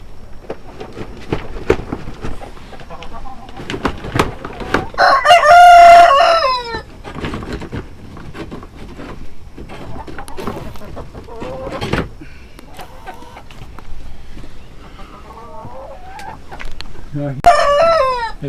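Chickens at their roost in a poultry house cluck and chatter throughout while a rooster crows loudly nearby twice, the second crow shorter and near the end.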